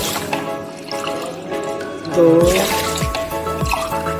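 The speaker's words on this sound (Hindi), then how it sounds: "अब मैं इसमें 4 कप पानी डालूंगी।" Water is poured cup by cup into a pan of sugar to make syrup for gulab jamun, giving close splashing and trickling pours, with a voice counting in between.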